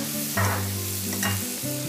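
Sweet pepper hits a pan of sizzling onion sofrito for arroz con pollo, a loud steady frying hiss with two brief bursts of stirring and spattering as the pieces go in.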